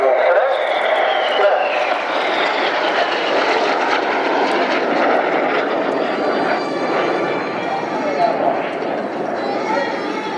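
Display jets at the Royal International Air Tattoo air show roar loudly and continuously overhead as a pair crosses paths, a broad engine rush that swells and holds without letup for the whole stretch.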